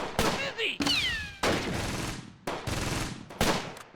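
Bursts of gunfire from the Close Combat war game, coming as a string of sharp, loud volleys broken by short pauses, with a faint rising whistle early on.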